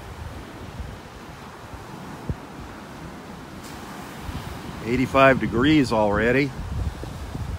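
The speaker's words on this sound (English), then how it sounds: "That wind's coming straight in off the Gulf this morning." Breezy onshore wind off the Gulf at North Naples beach in Southwest Florida rushes steadily as broadband noise with soft surf beneath, joined near the end by someone speaking close to the microphone.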